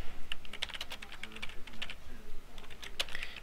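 Typing on a computer keyboard while formatting a Word document, with quick irregular clusters of sharp key clicks, close and clear, and a faint voice underneath.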